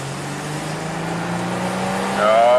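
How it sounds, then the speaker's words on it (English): A 1985 Oldsmobile V6 accelerates at full throttle, engine drone climbing steadily in pitch and growing louder, swelling sharply near the end, heard from inside the car. "let's do a full throttle acceleration here"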